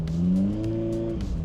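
Close, loud engine note from a Lancia 037 rally car pulling away in first gear, a smooth rising drone with clear harmonic tones that climb and then settle.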